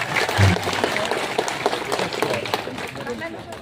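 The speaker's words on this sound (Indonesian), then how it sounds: "Tepuk tangan dulu Pak Edi Purwanto" Crowd claps at a campaign rally, a moderately loud patter of applause with people talking underneath and over it, uneven and fading slightly toward the end.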